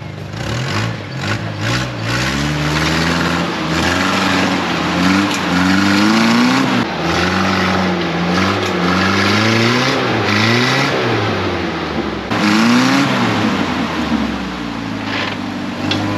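A Jeep engine revs repeatedly as it crawls over rocks on an off-road trail, loud and close, with rising and falling throttle surges and strained mechanical roar throughout, no talking.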